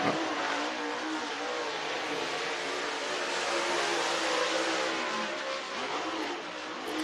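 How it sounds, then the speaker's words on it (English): Race cars roar around a dirt track at North Georgia Speedway just after the green flag, a dense continuous engine drone from several cars, loud and sustained with slight swells as they pass. "Rolling around the back straightaway as the green flag is out for Jaden Frame."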